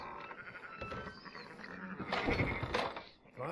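Sheep in Red Dead Redemption 2 bleating faintly in the background of the game's ambient sound, a wavering animal cry that swells briefly near the end, with no talking over it.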